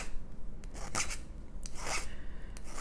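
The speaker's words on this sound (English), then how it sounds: "I'm going to do a little filing on the outside here to get rid of that hard edge" A hand file rasps along the outside of a metal jewelry bezel in short, close back-and-forth strokes, steady scratchy friction with a few brighter passes, no voices.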